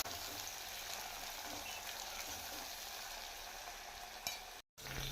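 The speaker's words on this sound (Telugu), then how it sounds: "దీంట్లో పుదీనా, కొంచెం కొత్తిమీర, కలెమాకు వేసుకొని కలుపుకోవాలి మంచిగా" Mutton keema stirred in a pan with mint, coriander and curry leaves, giving a faint, steady sizzle and soft scraping, with one brief click near the end before the sound cuts out for an instant.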